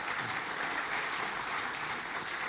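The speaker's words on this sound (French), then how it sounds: "on peut vous applaudir." A room applauds after a presentation on France 2030 investment tools, an even, moderately faint spread of clapping held throughout.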